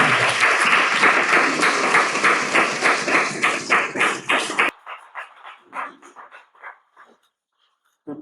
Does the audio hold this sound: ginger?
no